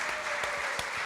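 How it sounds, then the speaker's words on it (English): Audience applause at a live event, dense steady clapping from a crowd that fills the space evenly with a few sharper individual claps standing out. "I'd like to give a special big round of applause to Africa"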